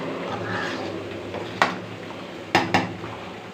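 Kofta curry in a pot stirred after water goes in, heard as a quiet simmering bed broken by three sharp clinks of a spoon against the pot's side, one alone and two in quick succession.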